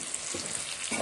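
Spice powders for a Kerala-style pork fry sizzle and hiss in a hot pan as they are stirred, a brief close-up crackle with soft scraping strokes.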